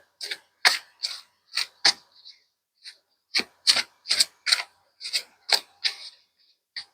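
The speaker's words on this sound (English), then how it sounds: "So I'm just going to shuffle up my cards here." Tarot cards are shuffled by hand in a series of crisp, riffling bursts, about a dozen short rasps in uneven groups with brief pauses between, close and clear with no talking.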